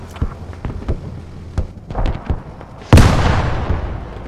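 Heavy gunfire and explosions in Squad on a counter-insurgency battlefield: scattered distant rifle cracks and thumps, then a big close blast that rolls out into a long rumbling tail.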